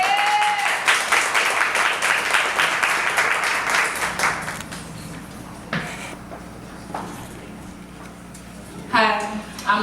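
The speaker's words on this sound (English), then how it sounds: "Y'all clap it up." An audience at a spoken-word poetry event breaks into loud applause that gradually fades over several seconds, followed by scattered voices and brief speech as the clapping dies away.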